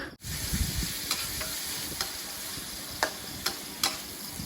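Shrimp stir-fried with roasted chili paste and garlic in a pan: a loud, steady sizzle runs throughout, broken by a few light clinks of a utensil against the pan.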